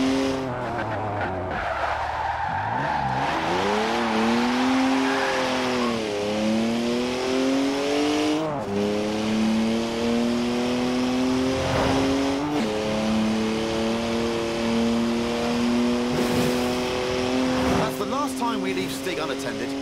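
A BMW 1M coupe, rear-wheel drive with a manual clutch shifter, driven in a racing game: a steady engine drone rising and falling through gears with long tire squeals from drifting, under someone talking.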